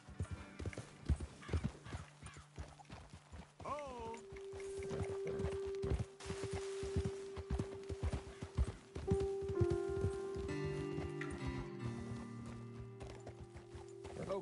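Steady clip-clop of horse hooves trotting close by in the video game Red Dead Redemption 2, with a horse whinnying and a sustained musical tone joining partway through.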